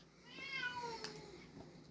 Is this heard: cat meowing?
yes